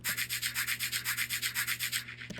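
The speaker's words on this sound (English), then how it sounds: "and this shaker as well with this recording of bubble wrap" Rhythmic crinkly shaking of bubble wrap used as shaker foley, about a dozen even pulses in steady succession, close and dry, then stopping abruptly.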